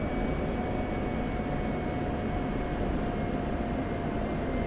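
A fighter jet flies an aerobatic routine in the DCS flight simulator, a steady droning roar with a faint high whine, even and unbroken throughout, with no talk.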